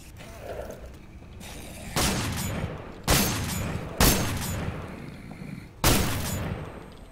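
Four loud, sharp shotgun blasts in the survival shooter game Stalker: Call of Pripyat with the Misery mod, spaced irregularly about a second apart, each with a booming tail over a low ambient rumble.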